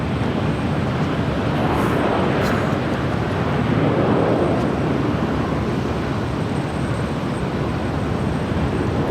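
An Aeroméxico airliner taxiing at Los Angeles LAX airport gives a constant, loud, broad jet roar that holds steady with no breaks.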